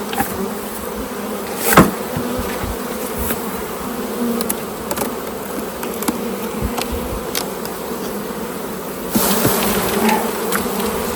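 A dense, continuous buzzing of many honeybees swarming close around an apiary, loud and steady, with occasional louder passes near the microphone.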